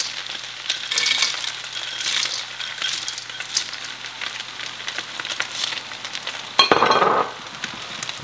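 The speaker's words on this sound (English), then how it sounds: "So now I'm going to put the peanuts." Peanuts go into a hot pan of golden-browned kung pao chicken, bringing a steady close sizzle with light stirring scrapes and a brief louder burst of frying near the end.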